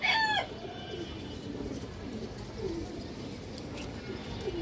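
Cream-eyed Kaldom high-flyer pigeons give faint, intermittent coos against a steady background hum, after a short rooster crow rings out at the very start.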